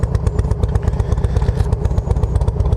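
A Harley-Davidson Road King idles up close with a loud, lumpy, rhythmic thumping beat and a slight irregular hiss-like edge, steady throughout.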